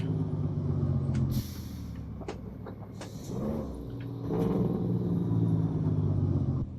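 A Kenworth K100E truck rumbles, then sharp hissing bursts of air brakes cut in over the engine noise, followed by the engine droning on.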